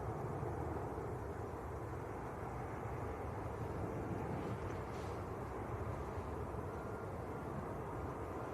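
TUI airliner from Rovaniemi touching down at Manchester Airport, a continuous distant broadband roar with deep low rumble and a steady level, no voices.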